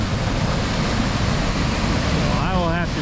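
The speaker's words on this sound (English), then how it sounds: "I love how it pours off into a pool, pours off into another pool." A North Shore waterfall pours off into one pool and then another, making a loud, steady broadband rush of falling water with a brief voice rising over it near the end.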